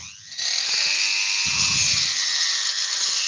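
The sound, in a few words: Dremel rotary tool running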